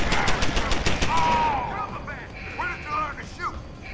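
An automated turret in Deus Ex: Human Revolution fires a fast, rattling burst that fades after about a second. Whistling, ricochet-like tones and ongoing game noise follow.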